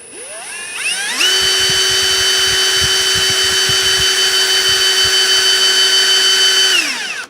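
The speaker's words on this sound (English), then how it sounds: "Brushless Ryobi hammer drill." A brushless Ryobi hammer drill spins up, runs at a steady high-pitched whine for several seconds, then winds down; loud and close.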